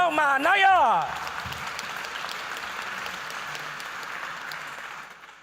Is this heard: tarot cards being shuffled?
no